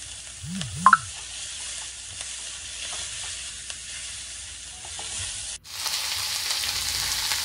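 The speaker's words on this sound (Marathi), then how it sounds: "त्यानंतर त्यामध्ये टोमॅटो घालून चांगले परतून घ्यावे" Tomatoes sautéing in a pan for a spicy Maharashtrian okra amti, a steady broadband sizzle with occasional stirring scrapes and a brief low clatter near the start, the hiss growing brighter and louder toward the end as the food is moved.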